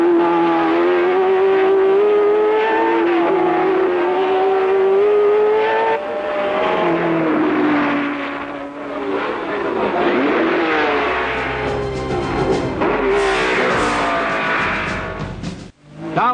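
1960s Formula One cars, Repco Brabham, Ferrari and Honda, roar loudly at the Nürburgring, one engine screaming close with rising and falling pitch through gear changes before another car passes and the sound cuts off sharply.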